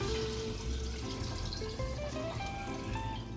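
Chicken stock is poured from its container into a cooking pot, a continuous close liquid rush over a faint tonal background.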